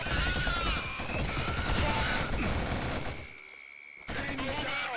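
Rapid automatic gunfire and explosive crashes fill a Killzone first-person shooter firefight, loud and dense for several seconds before a brief lull and another burst.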